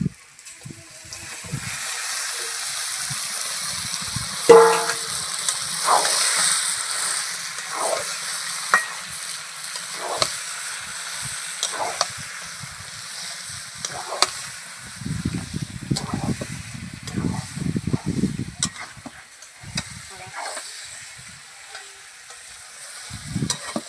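Marinated chicken going into a pan for desi chicken curry with a little water, giving a steady close sizzle with intermittent stirring scrapes and a louder bubbling spell later on.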